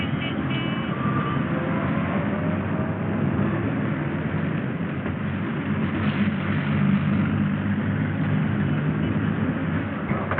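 A steady, loud rumbling roar of a train in motion aboard a train ferry, continuous and unchanging throughout with no speech.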